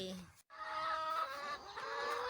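Egg-laying hens kept for home use on a small Thai farm cluck continuously, with overlapping calls and a rooster-like note. A short gap breaks the sound before the flock carries on, fairly close and loud.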